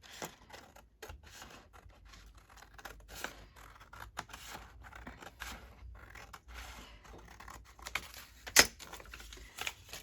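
Scissors trim paper for a Christmas junk journal, producing repeated quiet snips and rustles at an uneven rhythm, close by and faint, with one sharper click near the end and no speech.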